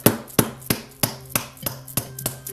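A chisel is struck repeatedly while cutting a large chunk out of wood at a workbench, giving about eight sharp, evenly spaced knocks with ringing tails; close and clear, with no voices.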